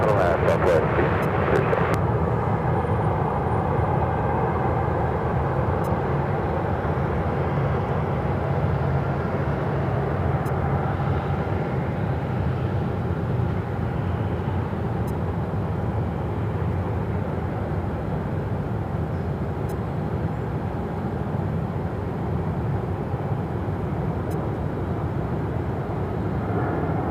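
A jet airliner takes off from runway 7 left at Phoenix airport, its engine roar a steady, broad rumble heard from a distance, with talk over it.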